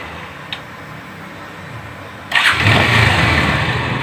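A Bajaj Pulsar motorcycle engine catches after a quiet pause and then settles into a steady, close idle that stays loud and even to the end.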